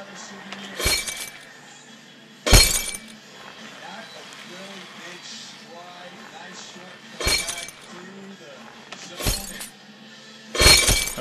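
Glass shattering in the physics game Happy Wheels, five loud, sharp crashes at irregular intervals, each a bright burst of breaking shards, with a voice talking between them.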